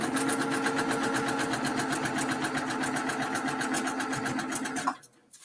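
Sewing machine stitching a quilt block, running steadily and loudly at close range with a rapid, even needle rhythm for about five seconds before stopping abruptly.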